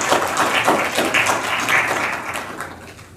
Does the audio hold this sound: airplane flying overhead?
no